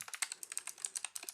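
Command typed on a computer keyboard, a quick, irregular run of about twenty crisp keystrokes heard up close, alone with no talking.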